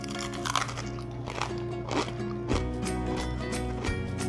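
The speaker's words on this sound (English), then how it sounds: "Now let's do a taste test. This is one of the stovetop pieces of bacon." Someone bites and chews crispy stovetop-cooked bacon, giving several close crunches over a steady background hum, with no talking.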